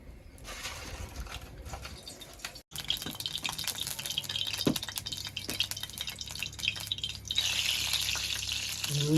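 Hot oil sizzles and crackles steadily in a heated kadai before fish is added, with one brief pause partway through and a brighter hiss building toward the end.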